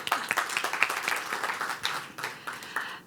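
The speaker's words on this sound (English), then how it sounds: "So we can give her a round of applause." Scattered audience applause at a telecom pitch event, a moderate burst of hand claps that thins and fades over a few seconds, with faint voices underneath.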